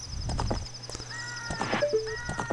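A horse's hooves clip-clop in quick uneven steps as it is ridden into a wall in a Zelda video game, with a short whinny and game tones over the top, no talking.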